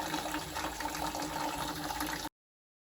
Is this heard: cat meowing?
no